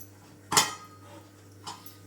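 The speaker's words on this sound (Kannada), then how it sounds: "ಕುಕ್ಕರ್ ಮುಚ್ಚಿಬಿಡ್ತೀನಿ." A pressure cooker lid being shut over moong dal and beans for kootu, giving one sharp metallic clack followed by a fainter clink a second later, close by in a quiet kitchen with a steady low hum.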